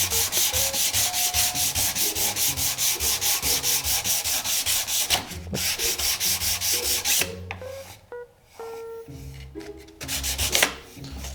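Smooth 240-grit sandpaper rubs back and forth over a wooden surface in a regular, rhythmic scratchy swish, close up. The strokes break off for a moment and then resume with scattered light knocks and handling sounds.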